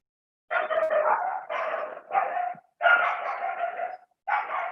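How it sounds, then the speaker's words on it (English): A dog barks in a run of rapid, loud bursts close by, several clustered barks with short gaps between them and no talking over it. "There's a dog barking, so I'm pausing for now."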